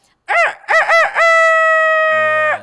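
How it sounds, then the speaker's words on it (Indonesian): A rooster crows loudly and close, a few choppy opening bursts giving way to one long sustained call that holds for over a second before trailing off. "suara kokok ayam pun sudah membangunkan"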